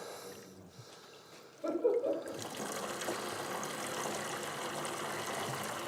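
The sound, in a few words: water poured into a sprouting container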